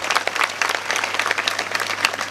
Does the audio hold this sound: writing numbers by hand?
no